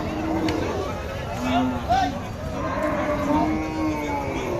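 Cows moo repeatedly at a muddy, flooded cattle market in Jessore, Bangladesh, several drawn-out calls close by over a constant murmur of crowd voices.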